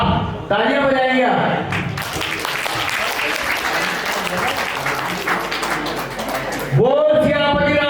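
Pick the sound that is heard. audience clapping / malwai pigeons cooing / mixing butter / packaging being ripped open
audience clapping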